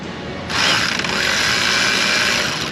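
A ratchet with a wobble extension and 11 socket works on a clamp in the engine bay of a Silverado Duramax 6.6 L5p, giving a close, sustained buzzing ratchet clicking that starts abruptly and continues steadily.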